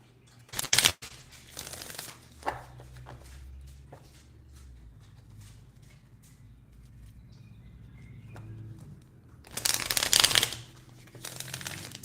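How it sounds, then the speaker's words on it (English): Bursts of cards riffling and snapping together, loud near 1 second and again around 10 seconds, with softer handling rustles in between. "Look, I can shuffle cards."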